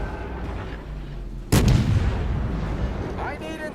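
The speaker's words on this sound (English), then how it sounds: "So for at least one salvo, maybe two, I've got a pretty good firing solution on him. Rounds out." A naval artillery salvo fires in the World of Warships video game, a sudden loud boom that rolls into a long rumbling tail, preceded by quieter game ambience.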